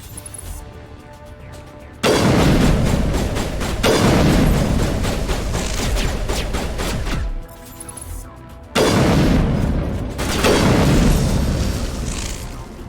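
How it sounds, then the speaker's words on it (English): Sniper rifle fire in the PC game Mass Effect 1 Legendary Edition: two loud, booming blasts, each followed by a long ringing tail and rumbling action, separated by a short, quieter pause. "The sniper rifle is coming in handy because like I can just shoot enemies from far away"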